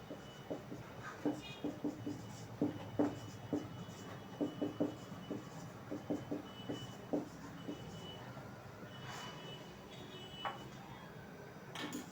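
Pen or chalk writing by hand during a Class 9 maths lesson on irrational numbers: a series of short, scratchy strokes in irregular bursts, faint and close, with no talking over them.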